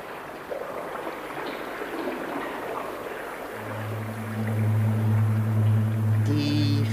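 Flowing water in a 1964 German radio play, a steady broadband rush that continues as a low, sustained hum swells in beneath it partway through.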